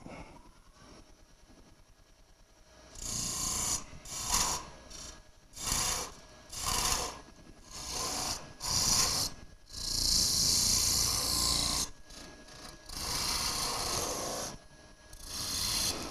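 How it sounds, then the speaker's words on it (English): Wooden toothpick holder being sanded on a spinning lathe, a series of loud rasping bursts of abrasive against wood, some short and some sustained, with brief gaps between strokes, close and without talk. "So sand these round them off. and then we part it off."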